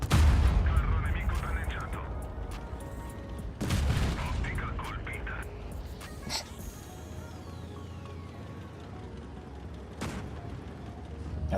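Tank cannons firing HE shells during a World of Tanks Blitz tournament battle, with heavy booming shots and blasts near the start, around 4 seconds and again near 10 seconds, amid continuous battle rumble, with a player talking over it.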